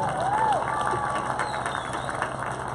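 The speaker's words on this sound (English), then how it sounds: "Give them a round of applause" Applause and light cheering from a graduation ceremony crowd, steady and moderately loud throughout, with a brief whistle near the start and some voices mixed in.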